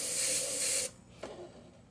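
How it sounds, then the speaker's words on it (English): An airbrush spraying paint on a muscle car model: a close, loud, steady hiss that stops abruptly after about a second, followed by a brief quieter puff. "Make sure the airbrush is spraying good."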